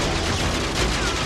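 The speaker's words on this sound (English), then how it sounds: "Shooting at me, Joe? You might be able to shoot this guy that's shooting at me" Rapid gunfire in Call of Duty Warzone on Rebirth Island, a dense continuous burst of shots over a short span, loud and close, with no speech.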